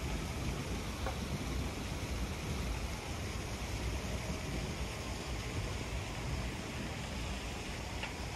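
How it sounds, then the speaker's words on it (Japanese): Water splashing in a park fountain in Edinburgh, a dense, continuous rushing wash heard close by and fairly loud, with no voices. "噴水の音もいいですね。"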